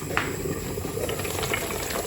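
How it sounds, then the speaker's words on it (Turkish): A running dishwasher in a home kitchen gives a steady watery hiss and sloshing churn, continuous and fairly close, with no talking. "Bulaşık makinem çalışıyor."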